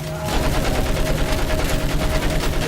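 Dense automatic gunfire rattles continuously in the World War I shooter Battlefield 1, a loud rapid stream of shots filling the whole stretch with battlefield noise and no clear talk.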